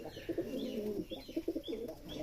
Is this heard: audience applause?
no